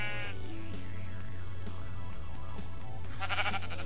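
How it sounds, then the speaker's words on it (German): Sheep bleating in the Minecraft video game, a loud wavering bleat over a steady background tone and game sounds, followed by a bright chiming burst near the end. "Geh weg, Schaf."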